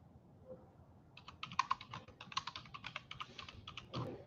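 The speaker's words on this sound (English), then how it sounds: "I just want to type something here to add onto." Rapid keystrokes on a computer keyboard, a steady run of light clicks after a brief quiet start, close and fairly soft with no talking.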